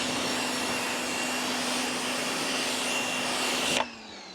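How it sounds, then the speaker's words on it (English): A power washer rinses a Lamborghini with a steady, loud, continuous hiss and a constant motor whine that cuts off abruptly near the end. "Did I mention this is my favorite power washer of all time?"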